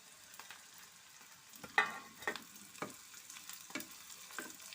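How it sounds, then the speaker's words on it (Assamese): Sun-dried fish fry in a pan with onion, garlic and green chilli under a faint, soft sizzle, broken by a series of distinct scraping and clinking stirs of a utensil. "এতিয়া মই মাছখিনি দি দিছোঁ।"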